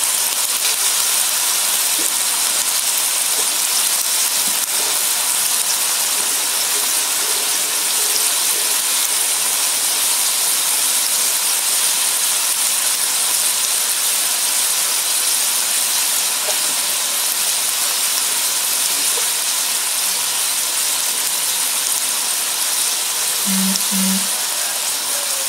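Mushrooms, meat and mustard greens stir-fry in a pan, giving a steady, loud, even sizzle and hiss that holds throughout with no talk.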